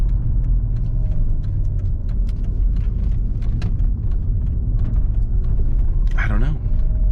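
A 2009 Mercedes-Benz SL65 AMG engine rumbles steadily at low pitch from inside the cabin on a test drive, continuous and fairly loud, with someone talking over it throughout.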